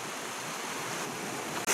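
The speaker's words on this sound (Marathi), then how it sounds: "एकदम खळखळून वाहणारा हा झरा" A gushing stream flows in a continuous broadband roar, steady and close, ending in a brief burst of louder noise.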